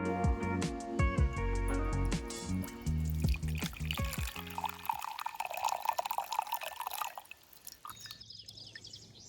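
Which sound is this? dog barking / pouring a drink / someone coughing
pouring a drink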